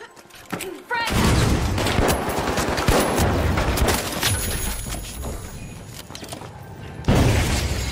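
Rapid automatic turret gunfire with explosive bursts in a first-person shooter video game, loud and continuous for several seconds with brief lulls, opening with a few scattered shots before the sustained barrage.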